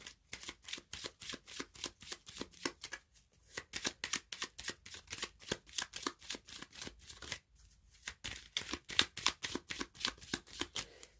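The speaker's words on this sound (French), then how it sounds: "Je vais d'abord tirer des cartes du Lenormand et ensuite des Charms." Lenormand fortune-telling cards being shuffled by hand, a rapid run of crisp riffling flutters in quick bursts with two brief pauses, close and clear with no voices.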